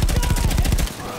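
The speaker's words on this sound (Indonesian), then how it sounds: "Itu teman gua tembak." Rapid automatic gunfire from the video game Battlefield 1, on an Alpine mountain battle map, fires as a fast, evenly spaced burst of loud shots for under a second, then cuts off, leaving a quieter game background.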